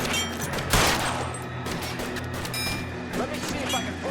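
Gunfire in the LA Noire video game, a cluster of sharp shots with one loud crack near the start, then scattered bursts under ongoing voices.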